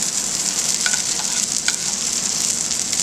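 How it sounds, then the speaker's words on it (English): Butter sizzles steadily in a pan as it is spooned over snapper and salmon fillets, a dense, even hiss with a few faint clicks, close and without voices. "you're tilting the pan up away from the heat and basting the fish with the butter"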